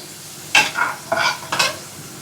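Country chicken pieces fry in a pan for a Sunday nonvegetarian fry, with a few close bursts of sizzling and stirring scrapes over a quiet kitchen background.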